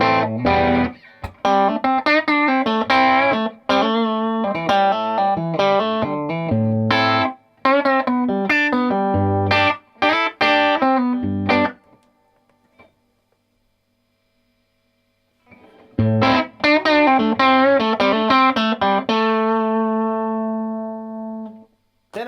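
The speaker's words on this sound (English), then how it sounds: "It's just this tight, in your face kind of distortion." Electric guitar played through a Milkman Half Pint amp with tight, aggressive distortion: loud riffs and chords in bursts, a long silent gap, then more playing ending on a ringing sustained chord.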